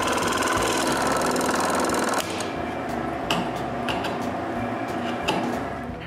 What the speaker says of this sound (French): je coupe les queues et les contre-queues avec la scie à chantourner